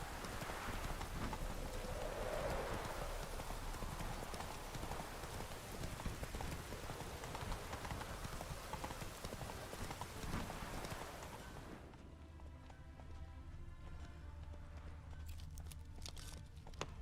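A horse trots on its hooves in The Witcher 3, a steady clip-clop rhythm under a wash of rain, fairly faint. The rain noise drops away near the end.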